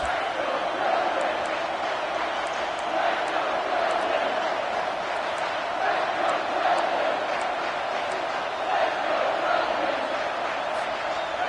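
Stadium crowd in the College Football 25 video game roars in a steady, dense wash of cheering that stays loud throughout, with occasional sharper whistles or shouts popping out above it.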